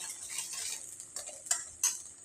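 Masala with turmeric, goda masala and coriander powder being sautéed and stirred in a pan for misal, giving soft scraping and a few sharper clinks of a spoon against the metal, with a quiet sizzle underneath and no talk.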